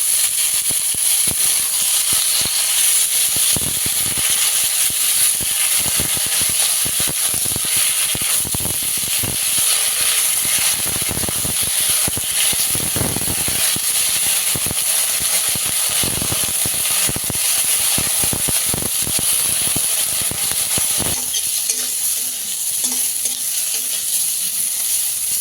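Onions and pumpkin flowers fry in a pan with a steady, close sizzle and hiss, broken by repeated stirring scrapes and clatters throughout.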